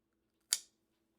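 A single crisp snip of scissors or pruners cutting a spent cyclamen flower stem at its base, close and brief, alone over a faint steady hum.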